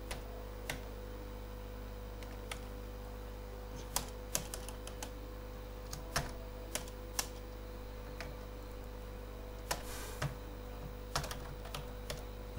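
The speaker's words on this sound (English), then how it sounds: "I think I should use a normal keyboard okay for this" Keys on an ordinary computer keyboard tap in sparse, irregular bursts over a steady low electrical hum, close by and without any talking.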